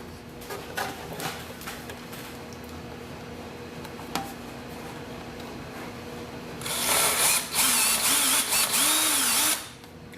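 Holes in a clear Lexan body for a Team Associated RC8B3e RC car are widened with a power drill: a loud, steady whirring burst of about three seconds breaks a quiet stretch, with no talking.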